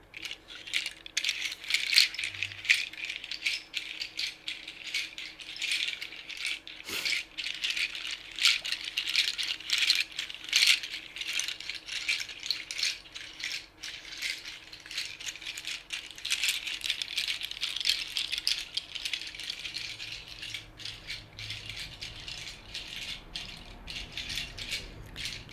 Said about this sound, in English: enjoy the sounds of the seed pod shaker